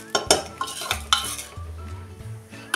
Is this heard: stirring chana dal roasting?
yes